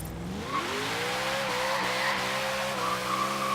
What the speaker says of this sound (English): Probably not a quarter-mile car because of the wheel spin.